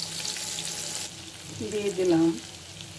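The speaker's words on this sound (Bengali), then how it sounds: "এখন আমি ভেজে নিচ্ছি" Goat fat fritters fry in oil in a heated frying pan, a steady close sizzle that dips briefly while a person speaks a few words over it.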